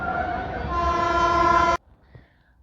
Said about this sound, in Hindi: तो दोस्तों सामने आ रही है 12497 शान पंजाब एक्सप्रेस नई दिल्ली अमृतसर।